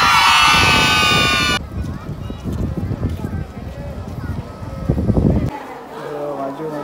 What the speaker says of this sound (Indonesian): Ya, teriak hore ya.